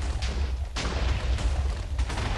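A chain of loud in-game explosions on a block-built puzzle parkour map, with deep continuous rumbling punctuated by several sharper blasts, close and with no talk.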